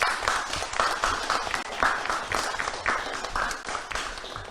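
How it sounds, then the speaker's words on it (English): Audience applauding a guest at a Ramadan quiz award presentation, steady dense clapping throughout at moderate loudness with no talk over it. "I want you to please give a great applause to him."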